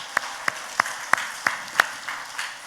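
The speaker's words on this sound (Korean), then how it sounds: "우리 서로에게 수고하셨으니까 큰 박수로 격려하겠습니다" Sharp hand claps ring out at an even, steady pace, six or so in a row, over a soft background of room noise.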